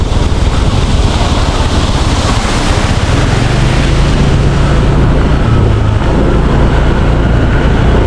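Strong rushing water roars loud and continuous along a mountain highway route in Ifugao, a broad steady wash with wind rumble and no talk over it.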